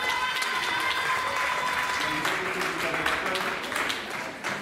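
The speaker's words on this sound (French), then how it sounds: "Et on va applaudir Abby aussi, qui est là avec nous" An audience applauds steadily at a live discussion event, a dense, sustained clatter of clapping that stays fairly even throughout with a voice faintly mixed in.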